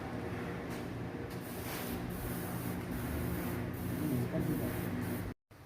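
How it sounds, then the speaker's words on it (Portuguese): A spray paint can hisses in a steady, continuous broadband spray for several seconds with brief pulses, close and fairly loud, stopping abruptly near the end. "eu optei por pintar com um spray"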